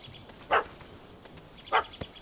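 A puppy in The Witcher 3 video game barks twice, about a second apart, with a smaller yip at the end; sharp, fairly close barks over a quiet outdoor ambience.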